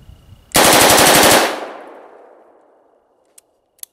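A burst of ten rounds of automatic gunfire, fast and loud and close, lasting under a second, then a long reverberant tail dying out, followed by two faint, sharp clicks.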